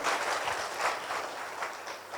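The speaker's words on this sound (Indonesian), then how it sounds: "Tepuk tangan bagi Tuhan kita." Church congregation clapping during a sermon, a dense, steady patter of many hands at moderate distance.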